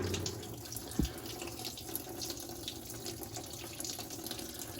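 Coolant draining from a 1973-79 Ford F-series truck radiator, pouring and splashing steadily into a container, a continuous watery rush with faint drips, no talking.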